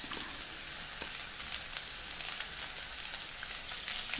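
Sliced onions fry in a pan for chicken perattu, producing an even, moderately quiet crackling hiss with occasional light pops and stir noises throughout, no speech.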